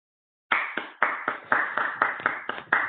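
A handful of people clap for a speaker after a plasma acceleration science talk, sparse, uneven claps starting abruptly after a brief silence and continuing close and clear.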